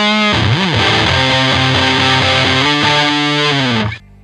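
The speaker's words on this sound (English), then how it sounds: "And finally at D is the big muff" Loud, sustained fuzz-distorted electric guitar through a Big Muff pedal, thick saturated chords ringing steadily for about four seconds before cutting off abruptly.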